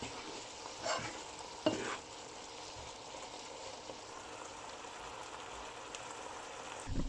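Pizza filling is mixed in a bowl or pan, a soft continuous wet rustle with a couple of brief clinks, quiet and steady throughout.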